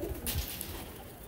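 A strong flying pigeon coos softly nearby, one brief low call amid light background noise.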